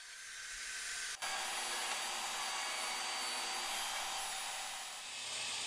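A bandsaw cuts metal pipe for a knife tumbler with a steady, faint, high whining buzz after a brief click, running continuously with no voices.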